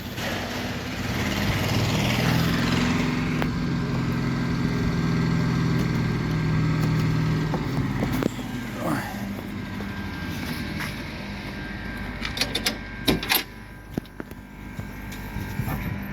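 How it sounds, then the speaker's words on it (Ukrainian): A black DTZ 5344HRX three-cylinder mini tractor idles with a steady, close engine drone for about eight seconds, then quiets down, leaving clicks and faint mechanical knocks. "Трактор йде з реверсом."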